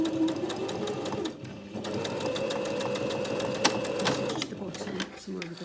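A sewing machine stitches back and forth in reverse on a cushion cover, a steady close rattle with rapid needle ticks and brief pauses while a voice talks over it.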